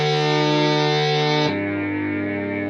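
Synthesizer patch run through a gritty distortion effect: a bright, buzzing sustained tone rich in harmonics drops abruptly to a lower note about halfway through, staying loud and steady with no talking.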